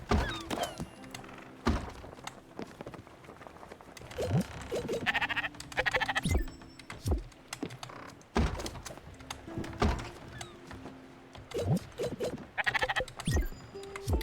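Sheep bleating in the video game Spiritfarer, several short nasal bleats recurring amid thuds, clicks and other game sound effects, fairly loud and close throughout.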